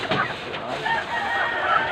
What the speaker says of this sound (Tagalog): ang ingay ng aking mga manok